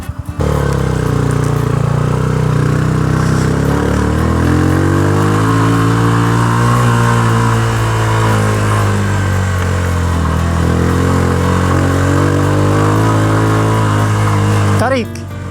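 A motorcycle engine runs steadily and loudly close by in Atok, Benguet, a sustained drone with shifting pitch as it pulls along, ending abruptly.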